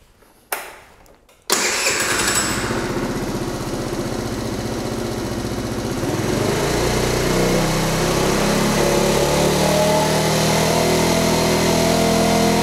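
A small scooter engine cranks and catches after a brief silence, then runs loud and buzzing before climbing into a higher, sustained rev of about 5,000 RPM that holds steadily to the end.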